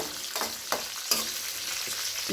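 Onions frying over medium heat on a stove until golden, a dense close sizzle with several sharp scrapes of stirring, no talk.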